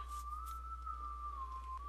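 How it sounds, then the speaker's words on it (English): A single thin video game whistled tune wavers slowly at one steady pitch over a faint background hum, eerie and sustained. "An eerie whistling tune."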